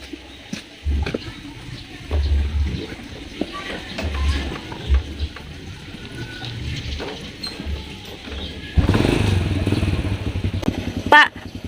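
An old motorcycle's engine idles, then revs up loudly and pulls away near the end, with some clattering and faint voices in the background.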